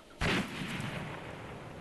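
Artillery fires during a co-op fire mission in ArmA, heard as a single sudden boom followed by a faint, rolling rumble that trails off at a distance.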